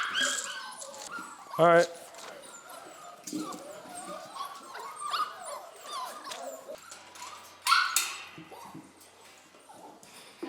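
A Goldendoodle puppy whimpers and yips in short bursts, with two sharper, louder barks standing out, close to the listener while a person speaks briefly nearby.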